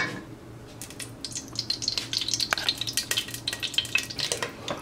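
Olive oil crackles and sizzles steadily in a preheated pot for fish chowder, a close, busy frying hiss with scattered pops and light stirring clinks, no voices.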